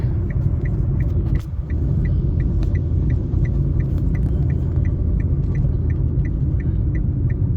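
Road traffic heard from inside a moving car, a steady low rumble and hum with a regular soft ticking pulse throughout, constant and fairly loud.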